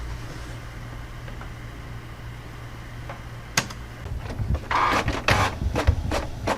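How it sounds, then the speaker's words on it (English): A home printer prints a paper Bitcoin wallet page: a quiet, steady hum at first, then a run of close mechanical clicks, whirs and paper-feed bursts that grow louder and busier toward the end, with no talking. "Let's go ahead and print this page"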